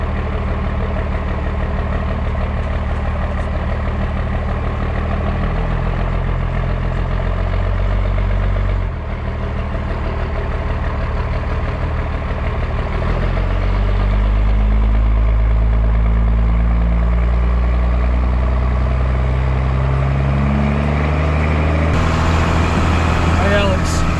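A first-generation 12-valve Cummins diesel truck engine runs steadily with a deep, rumbling idle whose pitch shifts and rises midway, staying loud and close throughout while people talk nearby.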